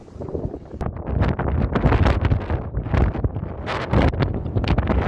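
Strong gusting wind buffets the microphone on Ramsgate pier by the royal harbour, a loud, rumbling, rough roar that surges and dips continuously with no talk.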